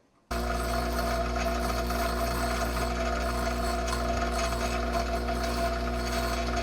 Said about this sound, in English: I'm going to get a diamond dresser. I'm going to flatten that out as best I can by eye and by hand.